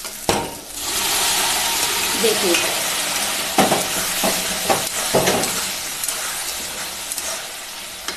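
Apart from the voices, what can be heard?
boiled chickpeas being stirred into sizzling masala in a pan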